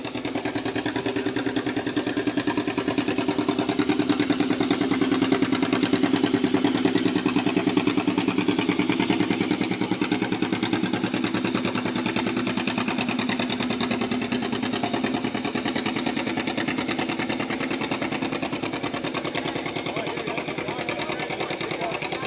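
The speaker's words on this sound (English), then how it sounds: "Back to the tractor pull." A John Deere G tractor engine runs steadily and loudly at a barnyard tractor pull at a county fair, a continuous throbbing drone with a rapid knocking pulse that barely changes over the stretch.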